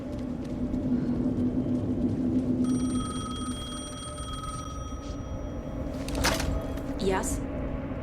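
A telephone rings in the video game Alan Wake 2, shrill repeated tones over low game ambience, with a brief sharp effect near the end.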